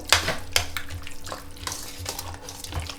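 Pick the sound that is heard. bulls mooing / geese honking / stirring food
stirring food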